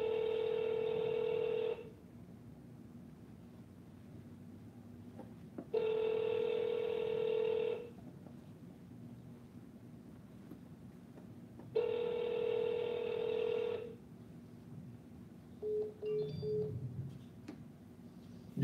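Three long bursts of a steady, buzzing telephone ringback call tone, each lasting about two seconds with pauses between, followed by a few short quick dialing beeps near the end, with no talking.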